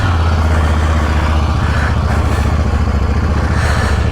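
KTM 890 Duke GP motorcycle with aftermarket exhaust and quick shifter, heard on a test ride: a steady, loud engine drone with dense low-pitched pulsing throughout, no speech.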